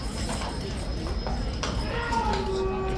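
A King's Guard horse turns around inside its sentry box, hooves clopping on the ground in a few scattered steps amid steady outdoor crowd noise and background voices.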